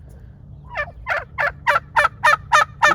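Turkeys in a backyard pen shared with chickens gobble in a run of about eight rapid, loud, rising calls, close by and growing stronger over a low background hum.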